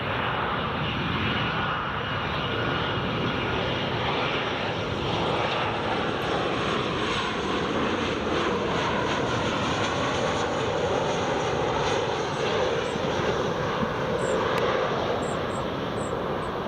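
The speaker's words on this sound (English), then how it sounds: "EasyJet is just lining up now." An EasyJet airliner's engines roar at Newcastle International Airport, a loud, continuous broadband drone holding steady for the whole stretch with no talk over it.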